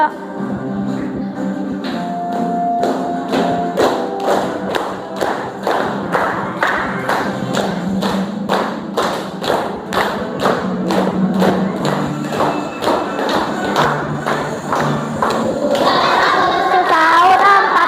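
Indonesian schoolchildren in a classroom clap in a steady rhythmic beat while singing a national independence song together, loud group voices over regular hand claps.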